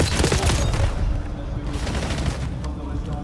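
Rapid bursts of gunfire in a Call of Duty esports match, dense loud shots clustered at the start and again later, layered under a commentator talking.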